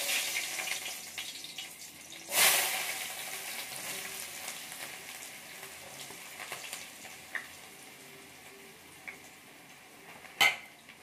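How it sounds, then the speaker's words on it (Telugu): Onions sizzle in hot oil for egg rice, a steady soft frying hiss punctuated by a loud clatter of a pan or utensil and a few lighter clinks, with no one talking. "ఆయిల్ ఆల్రెడీ హీట్ అయిపోయింది అనమాట. సో మనం ఫస్ట్గా ఆనియన్స్ వేస్తాం."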